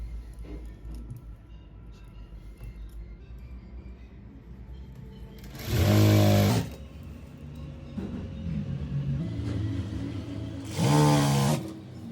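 A sewing machine stitches a sharara in two short runs of about a second each, separated by a quiet pause, loud and close against a low room hum.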